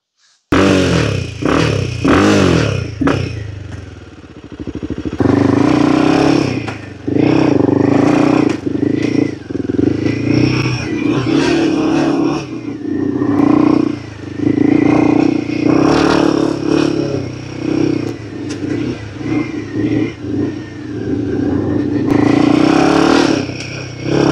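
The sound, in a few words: Royal Enfield Himalayan 450 motorcycle with AEW exhaust and dB killer riding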